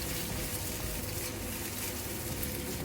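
Garlic, tomatoes and red pepper sizzle in oil while being stirred in a pan, an even, fairly quiet frying hiss with faint scraping, continuous throughout.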